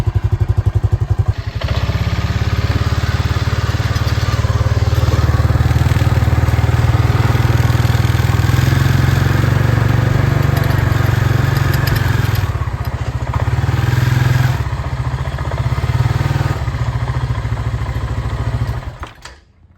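A Honda Foreman 500 ATV with a worn axle bearing runs steadily up close, a loud continuous engine drone with a rattling clatter that holds for about sixteen seconds before cutting off.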